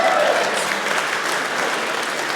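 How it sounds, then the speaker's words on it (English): A full round of audience applause at a speaker meeting, dense and steady from start to finish with a brief voice audible at the very beginning. "so little round of applause for breakfast"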